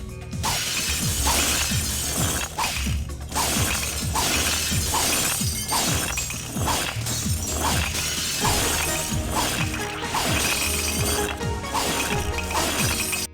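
Glass objects and plates shattering one after another as a brick is thrown at them in the TimeSplitters video game, a rapid run of loud, crashing breaks with clinking shards, continuous and close for the whole stretch.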